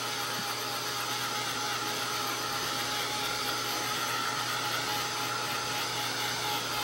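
A hair dryer blows in a continuous, steady whir at close range, drying the surface of an acrylic painting, with no breaks or talk.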